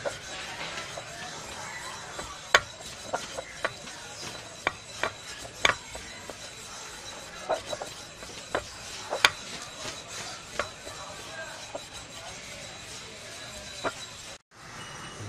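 A herbal preparation ground by rubbing in a mortar, a steady gritty rasping scrape punctuated by sharp knocks and clicks at irregular intervals, close and fairly loud, ending in a brief dropout.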